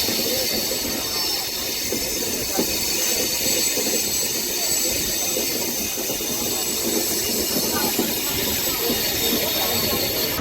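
A Tirupati–Vasco da Gama connecting train, linked with a Hyderabad–Vasco da Gama train, rolls past as a steady, loud rumble of wheels and coaches that fills the whole stretch without a break.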